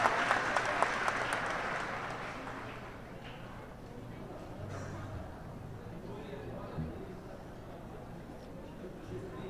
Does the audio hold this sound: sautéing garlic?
no